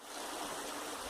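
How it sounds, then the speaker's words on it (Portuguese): A small waterfall on a stream in the Padre Nóbrega district pours with a steady, full rush of water. The sound is moderately loud and continuous, and no one speaks over it. "tem uma cachoeira ali embaixo"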